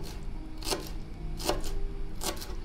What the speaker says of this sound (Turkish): Yemeğimizin üzeri için şöyle bir ufacık bir parça dereotu doğrayacağım.